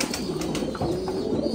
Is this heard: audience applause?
no